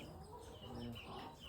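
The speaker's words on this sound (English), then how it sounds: "We have some baby chicks." Faint chirping of a small group of baby chicks on a pasture farm, overheated and panting in warm conditions, soft and continuous with no voices.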